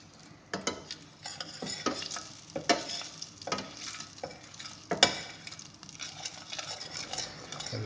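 Food sizzling in a hot pan while being stirred, a steady crackling fry broken by scraping spoon strokes against the pan at an irregular pace, close and moderately loud.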